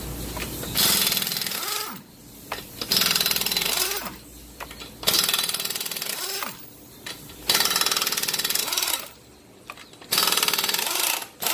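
Loud bursts from an impact wrench loosening 19 mm lug nuts on a Honda Civic front wheel, several rattling runs of a second or two each, separated by short pauses, close and without talk.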